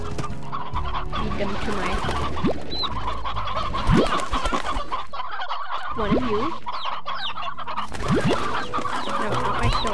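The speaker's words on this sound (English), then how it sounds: "I'm going to take some of my chickens." Chickens cluck repeatedly in the video game Slime Rancher, a dense busy flock with chirpy calls over constant game ambience, while someone talks briefly.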